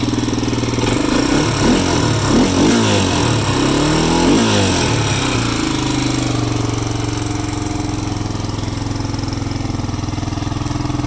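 Restored 1986 Honda ATC 350X King of the Hill three-wheeler engine running steadily at idle nearby, with a brief rise and uneven rev wobble early on before settling into a constant drone.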